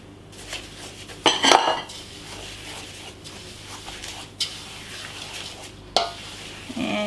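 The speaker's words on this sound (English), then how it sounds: "Mix everything in so it's all mixing nicely" Flour, rolled oats, coconut and sugar are stirred together in a bowl for ANZAC apricot biscuits, with a spoon clattering loudly against the bowl a few times amid softer scraping and no voices.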